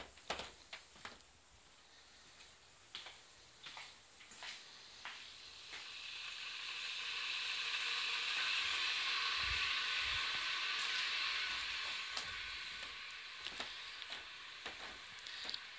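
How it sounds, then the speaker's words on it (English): An electric kettle in a home heats up, its faint hiss swelling to a steady, rushing boil, then easing, with small clicks and taps scattered around it and no speech. "Alexa, tell the house to put the kettle on."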